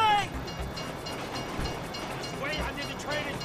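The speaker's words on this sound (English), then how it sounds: "hurry up before the train goes past" Train passing in the video game GTA V, a continuous rumbling rush with rhythmic clatter that sits under game sounds and faint voices throughout.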